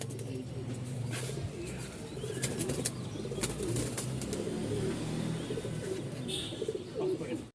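Tumbler pigeons (Giribaz) kept as breeding pairs coo softly and repeatedly, with occasional wing flutters nearby, while someone talks over them.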